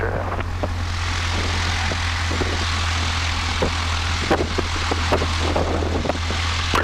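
A Piper Seminole twin-engine light aircraft taxiing on the ground, its propeller engines holding a steady low drone with a constant hum beneath intermittent clicks and rattles, heard from inside the cabin without speech.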